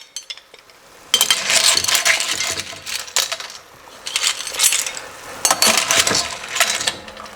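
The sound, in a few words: cooked clams in shells spooned into a serving dish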